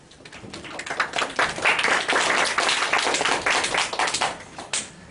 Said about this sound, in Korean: 박수로 이렇게 환영해 주셔서 감사를 드립니다